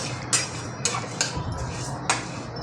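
Moth bean dal roasting in a pan over high heat is stirred with a metal spoon, giving four sharp scraping clinks at uneven intervals over a soft background hiss.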